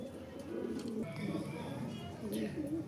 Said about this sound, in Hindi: ये देखिए दोस्तों, ये हमारे कबूतर बैठे हुए हैं